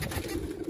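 Iraqi pigeons coo softly in a low, steady murmur through a brief moment, close by, with no talk over them.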